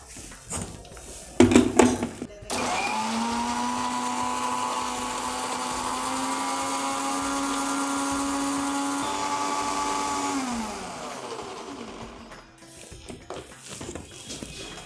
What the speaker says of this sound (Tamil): இதை நல்லா அரைச்சிடுவோம்.